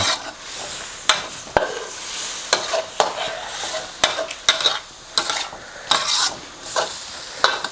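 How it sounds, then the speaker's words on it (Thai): Stir-frying chicken curry with dill in a pan: steady sizzling with repeated scraping and clattering strokes of a utensil against the pan, close and continuous, no voices. "ผัดไปเรื่อยๆนะครับ"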